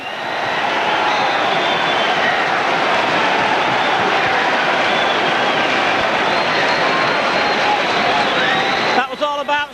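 Grimsby Town football crowd roaring after a goal, a dense, steady wall of loud cheering that fills the stadium throughout, breaking up near the end.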